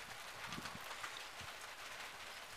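Big, sparse raindrops fall in the desert, making soft, scattered, irregular pattering taps over a faint, quiet background.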